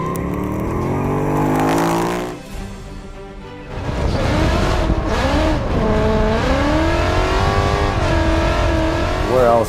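Supercharged 700-horsepower Ford Mustang GT engine revving hard and loud: a rising high-rpm wail, a brief drop near silence, then repeated surging revs with whine close up.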